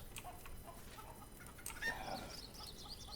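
In the Minecraft Animania mod, chickens and a rooster give soft, intermittent clucks over a faint constant game background, quiet and slightly distant, with no talk.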